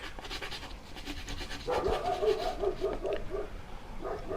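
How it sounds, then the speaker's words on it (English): A dog in the background of a home room pants and gives muffled barks toward passersby outside, a moderately faint, rough breathy rhythm with a few short, louder yaps midway. "That's my dog in the background telling people to stop walking past the house."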